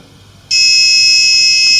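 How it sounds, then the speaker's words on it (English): An Arduino-driven buzzer switches on abruptly after a moment of quiet, emitting a loud, steady, piercing electronic tone that holds without a break to the end. "You see the buzzer will change sound."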